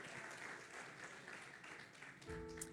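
A church congregation gives soft, fairly distant applause during a sermon, a light patter of clapping that fades as sustained musical tones come in near the end.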